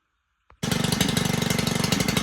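A Stihl KM110R string trimmer with a newly replaced carburetor fires up after a brief pull and settles into a loud, steady, rapidly pulsing two-stroke run.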